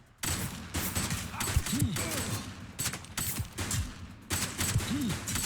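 Rapid bursts of assault rifle fire crackle through a warehouse shootout in the video game Razor's Edge, sharp repeated volleys broken by short pauses, with a voice talking faintly in the background.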